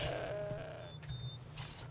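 A goat in the video game Skyrim gives a wavering bleat at the start, then trails off over a steady low in-game hum, with faint tonal chimes in the background.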